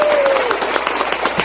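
A soundboard button plays an applause effect: a short burst of crowd clapping and cheering, loud and close, with a voice heard briefly over it.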